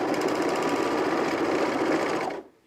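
An overlocker (serger) stitches along the edge of shirt fabric with a fast, even mechanical whirr, loud and close, running steadily before it stops abruptly.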